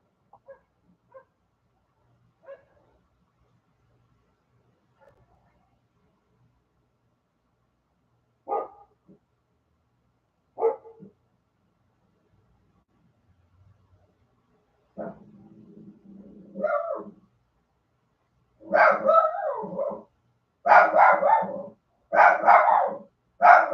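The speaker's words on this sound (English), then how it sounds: "Can hear all the dogs barking." Dogs bark at a distance, starting with faint scattered yips and single barks. Louder, closer bursts of repeated barking follow, growing more insistent toward the end in a quiet setting with no talk.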